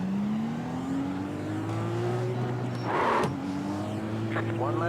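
A Dallara IR-18 IndyCar engine in iRacing at Fontana pulls away, its steady rising drone climbing through the gears, close and loud, with a brief whoosh midway.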